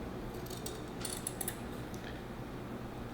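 A few faint, quick snipping clicks bunch together as the bottom of a homemade camera lens cover is cut, set against a low, steady room hiss with no talking.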